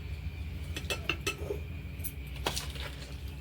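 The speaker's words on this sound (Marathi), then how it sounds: "मी ह्या बर्नीत भरून घेते असं थोडं थोडं चमच्याने" A spoon scoops homemade raw mango pickle into a ceramic jar, giving a handful of light clinks and taps against the rim over a quiet background.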